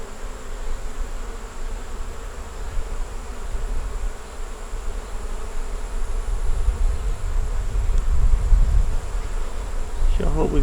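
Honeybees in an open hive drone in a steady, dense buzz that fills the space, loud and continuous, with one brief voice sound near the end.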